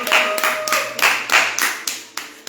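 Rhythmic hand clapping, roughly two claps per second, close and fairly loud, with a faint tone and murmur underneath.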